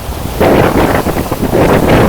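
Sea waves washing in at the Mumbai shore at night, with wind, make a loud, close, steady roar of surf and gusting air. There is no talking.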